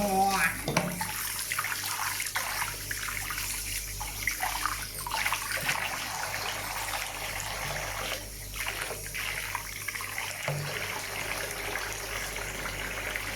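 Water splashes and pours continuously while a cow is being bathed and its belly washed, close and steady, with a person talking at times over the running water.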